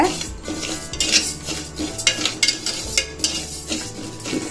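Metal spoon scraping and stirring moong dal as it dry-roasts in a pressure cooker, repeated clinks and scrapes against the pot in an uneven rhythm, close and fairly loud with no talk.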